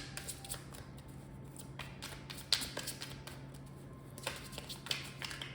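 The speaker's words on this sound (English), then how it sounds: "They shuffle so well. I have to shuffle them like so many times." Tarot cards being shuffled by hand, giving a soft continuous riffling and papery tapping with a few sharper snaps, fairly quiet and close, with no talking.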